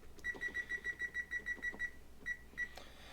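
An oven timer beeps in a fast, regular run of about a dozen short electronic tones, then pauses and gives two more beeps, fairly faint against quiet room noise.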